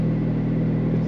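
McLaren 765LT engine idling, heard from inside the cabin as a steady, loud, low rumble with no breaks over a very short stretch.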